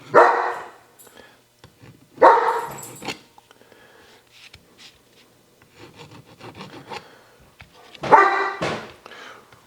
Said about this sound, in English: What are you guys barking about over there?